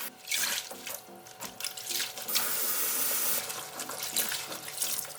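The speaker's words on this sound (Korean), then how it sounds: "3번 정도 깨끗이 씻어서" Running tap water splashes steadily over a bunch of fresh Korean chives being rinsed in a kitchen sink, a continuous close hiss and patter with brief shifts as the leaves are moved through the stream.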